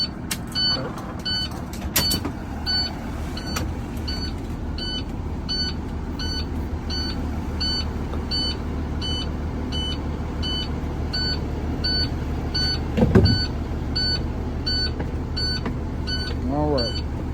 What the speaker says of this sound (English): I am going to now turn on the bus in order to regain air pressure.